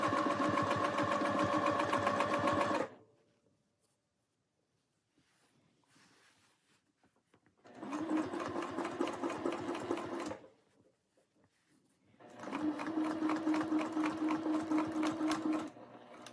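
Domestic sewing machine free-motion quilting around a circle template, whirring in three loud bursts of rapid needle stitching separated by quiet pauses, close up with no talk.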